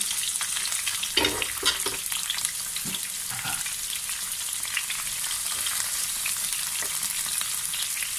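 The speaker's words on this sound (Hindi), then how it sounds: "अभी मैंने एक मीडियम साइज़ का प्याज लिया था। बिस्मिल्लाहिर्रहमानिर्रहीम। इसको फ्राई करेंगे।" A medium-sized onion fries in a pan for tawa kaleji masala, giving a steady broadband sizzle throughout with a few louder clicks and stirring scrapes early on, close and alone without talk.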